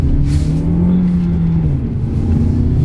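An MG HS turbo car accelerating on a road test, heard from inside as a loud, steady low engine drone that rises slightly in pitch, with no talking.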